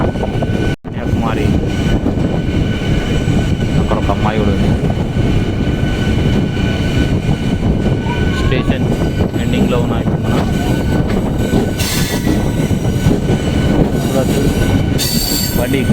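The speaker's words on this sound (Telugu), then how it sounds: "వీటి మధ్య తిరిగేటువంటి ట్రైన్ ఇది చూడవచ్చు ఇది కూడా ఐసీఎఫ్ కోచ్" A passenger train of ICF coaches running between Chennai and Kanyakumari rumbles past loud and close, with continuous wheel noise, clatter and intermittent metallic squeals throughout.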